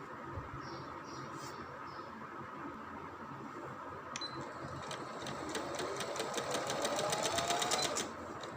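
A sewing machine stitches the folded waistband of a simple pair of trousers, running as a steady close mechanical whir that speeds up into a faster, louder rattling run near the end before stopping.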